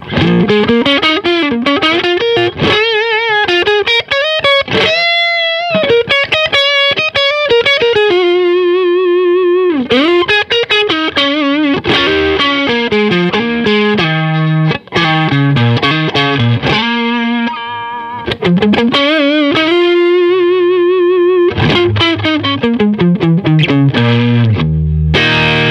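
An electric guitar with its humbucking pickup coil-cut to single-coil plays a long distorted melodic line with a thinner, brighter character, loud and steady with no voices.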